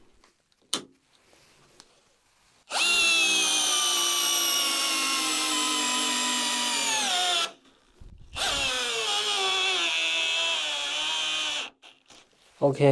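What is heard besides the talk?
Bosch GDR 12V-110 impact driver running in gear 1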